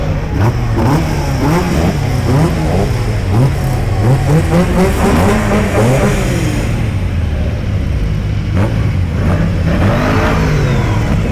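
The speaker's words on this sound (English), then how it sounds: "GT40 kit cars just making his way around to the turn" A GT40 kit car at a kit car festival rounds a turn, its engine loud and close, rising and falling in repeated revving surges as it accelerates, with a fainter second engine note.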